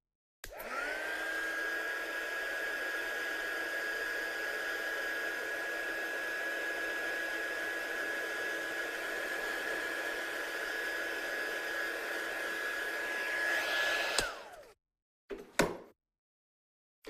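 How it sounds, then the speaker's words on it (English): A heat gun blows steadily and loudly for about fourteen seconds, drying pigment spray on a handmade card, then cuts off, followed by a couple of brief handling knocks. "We'll just give that a blast with a heat gun,"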